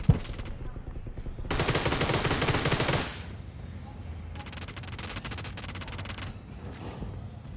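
Automatic gunfire in the mobile game Battlegrounds Mobile India comes in two dense rapid bursts, each lasting about one to two seconds, loud and close, with light talk between them.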